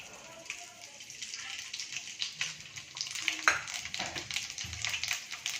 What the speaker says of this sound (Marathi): आता आपण हे फ्राय करून घेणार आहोत याच्यासाठी मी इथे गरम तेल केलेलं आहे